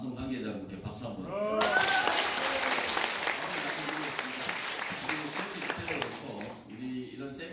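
Audience applause at a National Assembly debate forum in Korea, given for the broadcast crew recording it. Dense clapping swells in after a short spoken lead-in and continues steadily, then thins as a voice resumes at the end.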